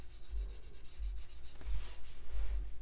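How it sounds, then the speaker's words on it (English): Soft rubbing of a fingertip blending soft lead pencil shading on paper, a close, quiet swishing in repeated short strokes with no voices. "what's on my finger I can just gently rub into that lightest light box"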